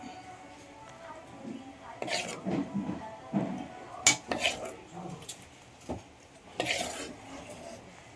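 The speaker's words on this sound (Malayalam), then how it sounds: "കുറച്ച് ചട്ടി എടുക്കും" Pots and pans are handled in a home kitchen, with several sharp metallic clanks and scrapes at irregular intervals, close and fairly loud, between quieter stretches and a faint sizzle.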